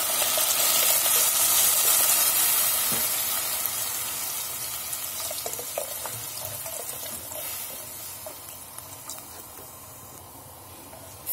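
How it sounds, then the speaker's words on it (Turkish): A litre of water poured into sautéed celery soup vegetables in a pot sets off a loud rushing, sizzling pour that gradually tapers off and quietens over several seconds. "Birazcık kavurduktan sonra bir litre suyumuzu ilave edelim"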